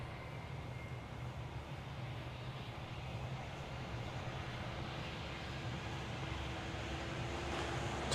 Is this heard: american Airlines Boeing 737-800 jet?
yes